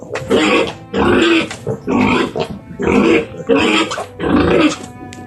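Five loud, close pig grunts come in steady, evenly spaced bursts, each harsh and rough, with brief quiet gaps between them.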